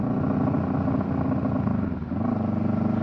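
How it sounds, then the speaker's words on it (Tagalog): Motorcycle engine running close by at a steady idle, with a brief dip and shift in pitch midway as the throttle is blipped for rev matching on a downshift. "then mag-blip tayo dito sa throttle, then magda-downshift tayo sa shifter natin"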